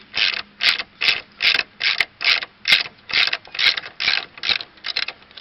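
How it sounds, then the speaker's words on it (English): Rapid ratchet clicks loosening 15mm bolts on the rear IRS spring plate of a VW Baja Bug, about a dozen steady, even bursts close up, with no talking. "what we'll need to do is break these 15mm bolts loose and remove"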